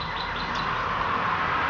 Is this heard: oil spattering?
no